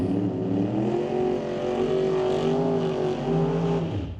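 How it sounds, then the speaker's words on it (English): A Chevelle drag car launches down the drag strip at a race track, its engine a loud sustained roar rising and holding through the run before dropping away at the end. "we watch Brian Ritchie take the Chevelle down track"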